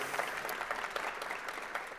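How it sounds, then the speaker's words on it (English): An audience at a PechaKucha talk event applauds with a steady wash of clapping that stays even and moderately loud for the full stretch, with no voices over it. "So let's have a round of applause for Ana."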